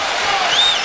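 A packed basketball arena crowd roars and cheers loudly after an alley-oop during an NIT game, a dense wall of noise heard only briefly.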